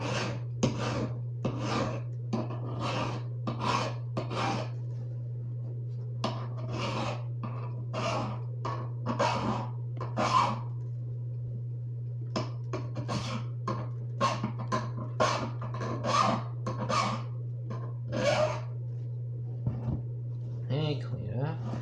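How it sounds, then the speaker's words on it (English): A metal hand file cleans up a fighting knife blade made from old hedge clippers, worked without a vise: close, steady rasping strokes roughly one per second, about twenty in a row, over a constant low electrical hum. "now once again, just gonna clean up with this file"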